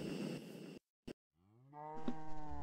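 Cows mooing in the video game Minecraft: a low, drawn-out moo, a brief gap, then a second long, rising, tonal moo heard clearly and up close.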